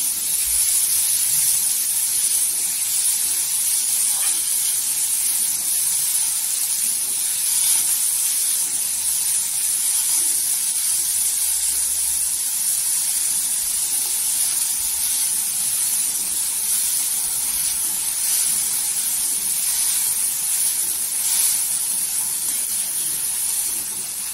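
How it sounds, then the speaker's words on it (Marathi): Onions roast in a hot pan, giving a steady, close hiss that holds evenly throughout with no voices. "इथे 2 ते 4 कांदे घ्यायचे आणि कांदा आहे ना भाजून घ्यायचा छान असा गोल्डन कलरवर"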